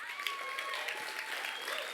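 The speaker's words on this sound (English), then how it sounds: "I'd like to ask for a round of applause for runner-up Y East Gardens." An awards-ceremony audience applauds the runner-up, a dense, steady wash of clapping from a crowd with a voice faintly over it.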